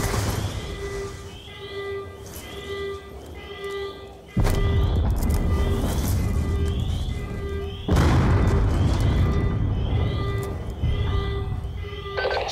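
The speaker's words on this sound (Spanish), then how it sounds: "Detectamos explosiones múltiples por todas las instalaciones." Heavy booming explosions in Call of Duty: Black Ops 2 hit twice, each launching a loud sustained rumble, with faint electronic tones repeating in the background.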